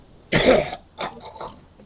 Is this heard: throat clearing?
yes